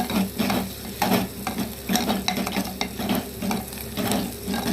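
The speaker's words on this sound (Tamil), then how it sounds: "இடித்து வச்ச பூண்டு ஒரு அஞ்சு பல்லு இடித்தா போதும் போட்டு நல்லா வதக்கி விட்ருங்க" Onion and crushed garlic sautéing in a pan for mutton bone rasam, a loud close sizzle broken by frequent scraping spatula strokes in an uneven rhythm, with no talking.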